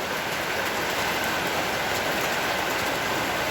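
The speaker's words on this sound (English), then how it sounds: "And it's still raining." Heavy rain shower on a Tuesday afternoon, a dense, steady hiss of rainfall holding even and loud from start to finish with no voices.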